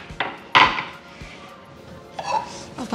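An induction griddle pan is handled and set down on a kitchen counter while sweet steamed modak are being prepared, giving a couple of sharp metallic knocks and clatters with quieter handling between them.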